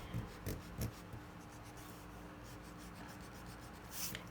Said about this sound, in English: I am just going to rub out any lines that I didn't cut